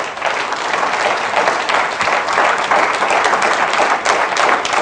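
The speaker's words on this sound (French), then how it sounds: "Applaudissez pour les mamans." Congregation in a church applauding the mothers, a dense, steady wash of many hands clapping for about five seconds, loud and continuous without pause.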